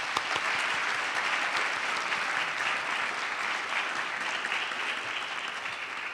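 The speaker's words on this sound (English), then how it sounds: "Please join me in a round of applause for all of the nominees." Sustained audience applause at a Queens College, CUNY State of the College Address honoring award nominees, dense and steady throughout without a break.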